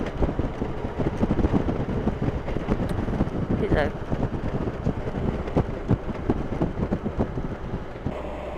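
Steady, loud wind buffets the microphone while riding a Can-Am Spyder on a breezy day along the Chesapeake Bay Bridge Tunnel. The roar stays constant and rumbling throughout, with no clear pauses.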